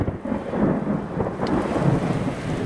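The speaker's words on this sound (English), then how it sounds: "The rain comes fast and furious across southern Colorado." Heavy downpour across southern Colorado, a dense hiss of rain with deep rolling thunder rumbling continuously beneath it, loud and close.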